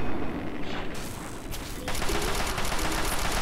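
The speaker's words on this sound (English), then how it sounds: "Just keep firing, it's big enough that I can just keep shooting." Sustained gunfire in Fallout 3 against a large robot: dense, rapid bursts of shots pile up into a loud, continuous roar with mechanical clatter, close and unbroken throughout.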